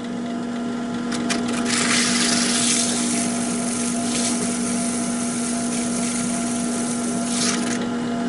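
Sandpaper wrapped on a spinning wooden mandrel sanding a coin ring, a continuous motor hum with a bright, rasping sanding noise that swells and fades as the ring is pressed on.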